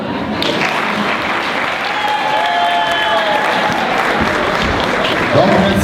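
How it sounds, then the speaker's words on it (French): A large crowd applauds the mayor, Louis-Charles Point, at a volunteers' day event in Saint-Calixte, with steady, dense clapping that holds through the whole stretch and a few faint voices mixed in. "je vais vous demander de l'applaudir très, très fort, votre maire"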